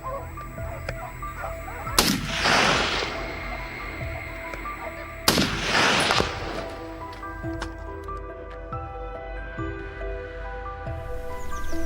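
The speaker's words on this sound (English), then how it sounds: "My rifle locked onto the boar, and with a loud bang, the shot rang out." Two sharp rifle shots during a wild boar hunt on open grassland, loud and close, about three seconds apart, each followed by a trailing rumble, with a steady outdoor background hum between them.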